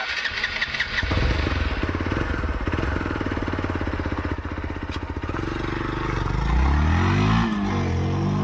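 Hero Xpulse 200 4V off-road motorcycle riding: a continuous close engine drone that rises and shifts pitch as it accelerates, loud throughout with a rumbling low end and no speech.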